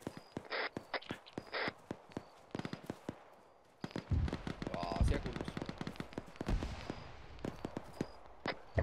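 Gunfire and heavy impacts crackle through an Arma 3 battle as the squad's own indirect fire lands, with distant shots and sharp bangs under radio chatter and talk.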